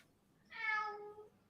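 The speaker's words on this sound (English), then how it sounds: "I hear the cat." A house cat gives a single drawn-out meow, close and clear, lasting just under a second over quiet room tone.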